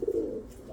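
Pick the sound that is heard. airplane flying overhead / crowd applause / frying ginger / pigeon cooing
pigeon cooing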